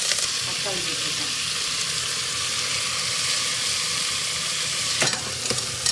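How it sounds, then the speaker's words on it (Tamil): Onion, garlic, green chilli, curry leaves and tomato sautéing in a hot pan with mustard seeds and chana dal, a steady close sizzle with occasional scraping stirs and a couple of sharper clinks near the end. "எல்லாம் நல்லா வதக்கி விட்டுட்டேன்"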